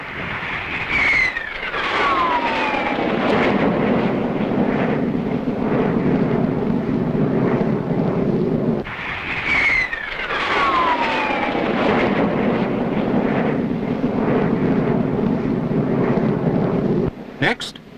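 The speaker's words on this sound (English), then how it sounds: "here comes the first jet flying boat" A Saunders-Roe jet flying boat fighter with two Metropolitan Vickers axial-flow turbines roars past twice, each pass bringing a loud high whine that drops in pitch and then a long sustained engine rumble, with someone narrating over it.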